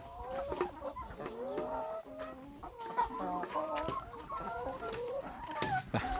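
Laying hens cluck and murmur steadily in a farm coop, several birds overlapping in close, continuous chatter with occasional sharper squawks.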